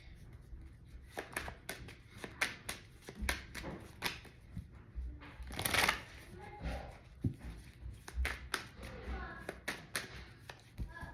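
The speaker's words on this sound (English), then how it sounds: "All right, I'm gonna get a few more shuffles." A deck of tarot cards being shuffled by hand, giving repeated soft riffling taps and slaps in uneven bursts with one louder rustling flurry midway, close and fairly quiet.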